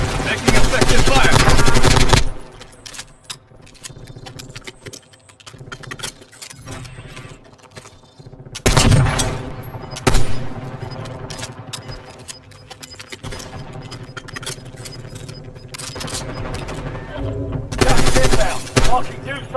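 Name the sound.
machine gun fire in a video game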